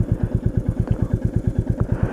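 A Royal Enfield Meteor 350 idles close by with a steady rapid thumping single-cylinder beat, and a couple of faint clicks come through as the gear lever is tapped down into neutral.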